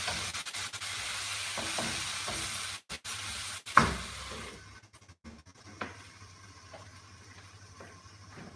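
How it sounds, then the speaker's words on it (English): Bitter gourd and potato pieces stirred in a frying pan, a soft scraping and sizzle through the first half, broken by a couple of sharp clinks, then quieter frying with occasional light taps. "Have to keep stirring these bitter gourd and potatoes in between."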